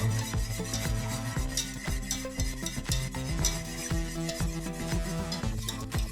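A spoon scrapes steadily around a pan of thickening béchamel sauce seasoned with pepper and nutmeg, a continuous rhythmic stirring with faint sizzling underneath and no voices.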